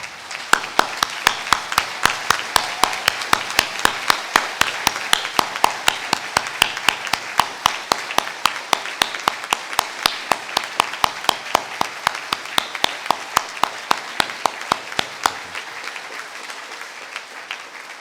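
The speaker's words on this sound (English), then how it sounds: "I'd like to ask delegates if you wouldn't mind standing and giving a round of applause in a show" A standing audience of trade union delegates claps in a long, steady round of applause at a conference in solidarity with Greece, dense and sustained for about fifteen seconds before fading out.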